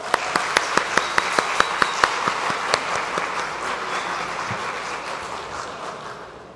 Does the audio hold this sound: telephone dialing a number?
no